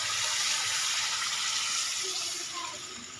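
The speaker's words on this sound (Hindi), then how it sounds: "अब ये जो यखनी थी ये मैं बीच में शामिल करने लगी हूँ।" Meat stock is poured into a pot of browned meat, a continuous hissing, splashing pour that stays loud and slowly tapers off.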